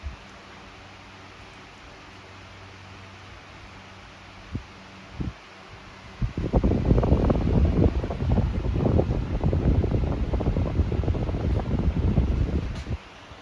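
A Rowenta Turbo Silence Extreme 12-inch table fan switches into turbo boost mode, and a few faint clicks give way to a loud, steady rush of moving air that holds to the end.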